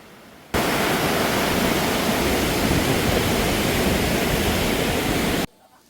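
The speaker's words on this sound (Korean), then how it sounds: "거센 그 물살이 앞다투어 빠르게 흘러내려갑니다." A fierce mountain stream rushes steadily down a deep forest valley by a cliffside trail in Hadong, a loud, unbroken roar of water close by, starting and stopping abruptly.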